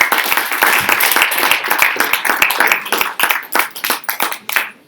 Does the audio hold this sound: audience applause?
yes